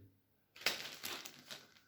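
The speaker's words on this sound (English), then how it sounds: "Just put them into a nice little plastic bag." A small plastic bag crinkles as small parts from a DeWalt DCF887 impact driver are dropped into it, a run of close, crisp rustles and crackles starting after a brief silence.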